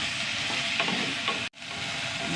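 Okra, onion and tomato fry in a very hot pan, a continuous close sizzle with a few soft stirring scrapes and one abrupt brief cut near the end, no voices.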